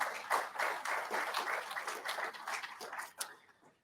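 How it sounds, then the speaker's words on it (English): Audience applause for corporate sponsors at an Army association coffee series event, a dense wash of many hands clapping steadily at moderate distance, tapering off near the end. "So please give Northrop Grumman and Leonardo DRS a big round of applause."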